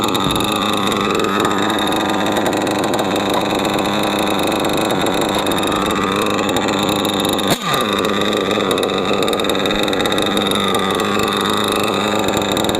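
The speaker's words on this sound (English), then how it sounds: "So I guess we're gonna let the engine warm up again, because it's been sitting here for a while." A HoBao Hyper VS RC buggy's Hyper 21 nitro engine runs continuously at a loud, buzzing idle close by, with one brief dip and blip in the middle of the steady drone.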